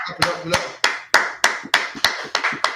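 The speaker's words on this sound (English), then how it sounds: "Give him a hand." A small group claps in slow, even unison for a police officer at a scripture class, about nine distinct sharp claps in a steady rhythm, close and clear with a little voice at the start.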